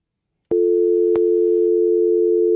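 A telephone busy tone sounds after a caller hangs up on a radio call-in line, a loud steady electronic tone that starts abruptly after half a second and runs unbroken, with a couple of faint clicks.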